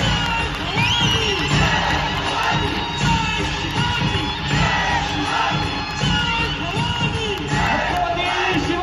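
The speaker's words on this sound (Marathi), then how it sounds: "जोरदार टाळ्या दिली जाते।" A large crowd at a Maharashtra Navnirman Sena gathering in Dombivli for its president Raj Thackeray claps and cheers loudly and steadily, with shouts and whoops rising above the dense roar throughout.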